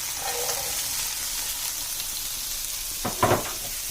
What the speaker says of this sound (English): We're going to add in our celery.